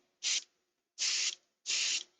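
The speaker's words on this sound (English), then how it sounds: "It's spray painted." Three short, bright hissing bursts from a spray can coating a miniature figure, each lasting about a quarter to a third of a second with brief silent gaps between, close and fairly loud.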